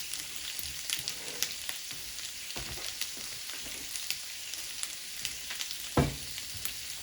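Salmon fillet frying in a hot pan, a steady dense sizzle and crackle running throughout with a few sharper pops and one louder clatter near the end, no talking.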